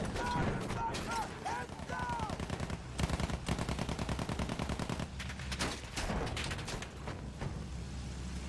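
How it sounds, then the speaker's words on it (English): Rapid machine-gun bursts rattle almost without pause in a video game, loud and close, mixed with other gunshots and chirping game effects. "Machine gun."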